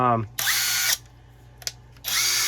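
Two loud bursts of a Seesii 21V cordless impact driver whirring close by, separated by a quiet gap with a brief click, the second burst starting near the end.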